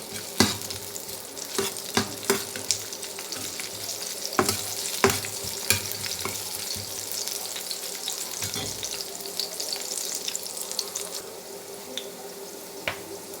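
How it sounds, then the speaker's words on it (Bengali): Green chilies and onion fry in oil in a frying pan, a steady close sizzle with frequent sharp spatters and stirring clicks throughout, no voices. "কাঁচামরিচ আর পেঁয়াজ দিয়ে এটাকে আমি ভেজে নেব।"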